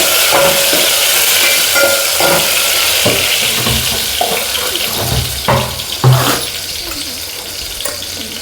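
Water is poured into a pan while cooking a dish with dried red chillies, giving a loud steady rushing flow with a few clinks and stirring knocks toward the end, and no talking.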